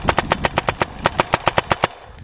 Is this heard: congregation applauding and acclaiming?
no